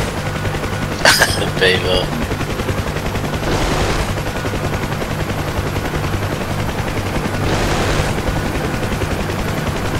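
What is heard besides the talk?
aircraft gunners firing machine guns, from a video game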